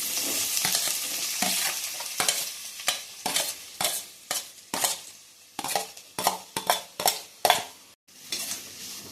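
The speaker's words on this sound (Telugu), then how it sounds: "ఆనియన్స్ వేసుకున్న తర్వాత కొంచెం గోల్డ్ కలర్ వచ్చేంత వరకు దీన్ని కలుపుకుంటూ ఉండాలి" Onions and green chillies frying in hot oil, with a constant sizzle under repeated, rhythmic scraping and clinking as a spoon stirs them around the metal pan.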